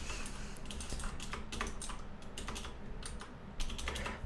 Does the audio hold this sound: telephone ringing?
no